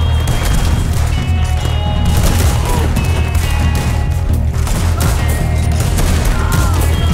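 Loud, continuous gunfire in Red Dead Redemption 2, a western video game, with dense volleys of shots and game-world noise layered into a constant roar, with horse sounds mixed in.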